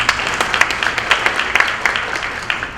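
An audience at a city State of the City event claps together, a dense run of sharp hand claps with a few louder individual claps standing out, moderately close and continuing throughout.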